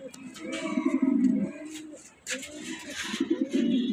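A female Budapest pigeon coos in a low, throaty series close by, with short bursts of cooing broken by a brief pause and other birds chirping in the background.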